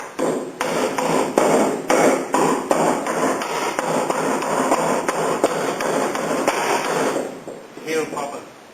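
Repeated sharp taps of a hammer striking a small chisel in an irregular rhythm, close up, with a steady mechanical hum underneath, during restoration of a Holden EH ute.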